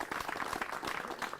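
Audience applause at a farmers' quiz stage event, welcoming the farmers present; dense, steady clapping fills the whole short stretch at moderate loudness with faint voices mixed in.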